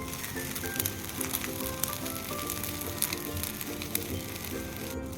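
Garlic idli upma sizzling and roasting in a hot pan, a steady frying hiss with scattered crackles and pops throughout, close and fairly even in level.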